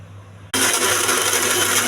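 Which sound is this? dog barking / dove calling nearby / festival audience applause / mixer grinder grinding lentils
mixer grinder grinding lentils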